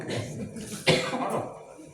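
A single sharp cough rings out during a Sundanese-language sermon, surrounded by a low murmur of room sound.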